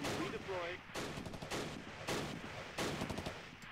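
Gunfire from the war strategy game Close Combat Last Stand Arnhem comes in repeated loud bursts of rattling shots and booming impacts, dense and close, with a voice speaking briefly over the start.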